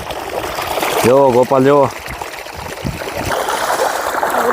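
Irrigation water flowing through a small field channel during the monsoon, a steady close trickling hiss beneath a voice briefly calling out.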